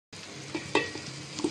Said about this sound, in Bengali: চালটা এখন ভেজে নেব।